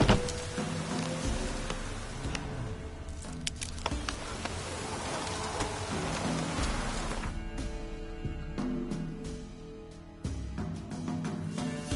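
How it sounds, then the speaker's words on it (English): Rain patters steadily in The Witcher 3, a soft hiss of drops spread evenly throughout, blended with low ambient game tones and faint insect-like buzzing, with no talking. "Looks like rain."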